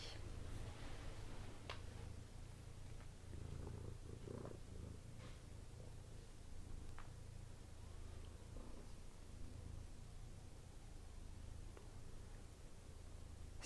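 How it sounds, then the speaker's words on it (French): A cat purrs steadily while settling on a person's lap and kneading contentedly, a soft continuous low rumble heard close up for the whole stretch, with faint rustling and no talk. "le chat est en train de se déposer sur mes genoux et faire ses griffes de contentement."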